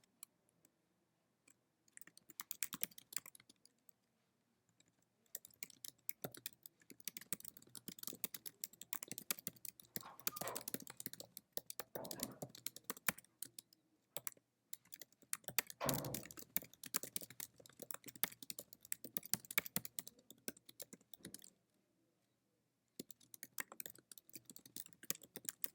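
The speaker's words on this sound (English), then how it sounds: "So I'm going to type directions." Fingers tap quickly on a computer keyboard, soft close clicks in irregular bursts with a few short pauses, steady and faint, no voices.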